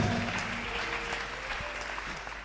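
A church congregation applauds at a December 31 New Year's Eve worship service in Côte d'Ivoire. The clapping is dense and steady and fills the room throughout, with a low murmur underneath.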